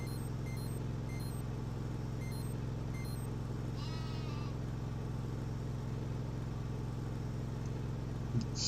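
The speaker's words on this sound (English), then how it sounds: "How are my sheep doing?" A single sheep bleats briefly in the Farming Simulator 2013 video game, faint and mid-distance over a constant loud low engine drone of farm machinery.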